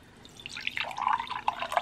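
Canned coconut water poured out close by: a thin trickle of drips that quickly builds into a brighter, steadier splashing stream, with no talking.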